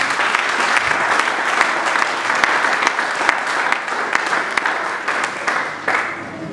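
A church congregation applauds during a service, a dense, loud, continuous clapping that holds steady from start to finish with no voices over it.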